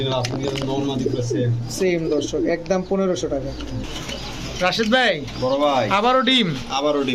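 Pigeons of fancy breeds such as potter, king, racer and giribaj coo repeatedly close by in a loft, overlapping throaty calls, while a person talks over them.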